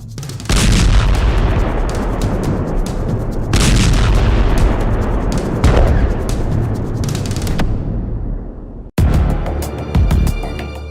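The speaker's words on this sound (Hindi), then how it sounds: "दक्षिणी गाजा में ताबड़तोड़ इजरायली हमले हो रहे हैं" Israeli strikes and gunfire in southern Gaza: heavy booms and rapid cracking blasts roll on in loud, dense waves, then cut off abruptly before another burst of shots resumes.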